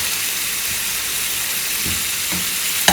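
Boiled eggs fry with masala in a pan, giving a loud, continuous sizzle and hiss up close, with light stirring scrapes and a sharp clack at the end.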